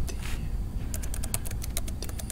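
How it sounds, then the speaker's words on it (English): Quick typing on a computer keyboard, a close, rapid run of light key clicks in the second half after a brief opening tap, over a low background hum. "I'm going to type in there"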